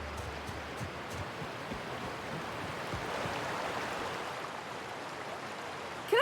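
A waterfall in The Outer Worlds video game, a steady broad rush of falling water, constant and fairly close, with no voices.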